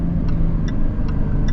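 Jaguar F-Type P380 R-Dynamic engine and exhaust humming steadily from inside the car, a continuous low drone with faint periodic ticking, no talk over it.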